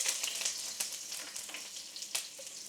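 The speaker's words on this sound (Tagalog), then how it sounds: "gisa natin ng sibuyas" Onions sauté in a hot pan, a steady soft sizzle with faint crackles and occasional stirring scrapes, heard close and alone.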